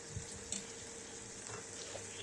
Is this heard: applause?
no